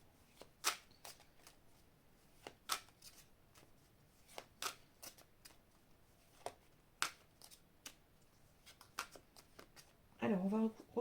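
Oracle cards being shuffled by hand in a quiet room, a run of soft, crisp riffling bursts at irregular intervals, closing with a brief louder rustle of the deck.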